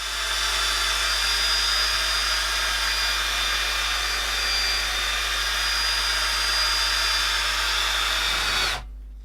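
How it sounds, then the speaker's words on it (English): A small polishing ball on a power tool buffs the inside of a detachable exhaust tip. It makes a loud, continuous high-pitched whirring whine that holds steady for about nine seconds, then cuts off abruptly. "the smaller polishing ball was then used to buff up the inside of the tip"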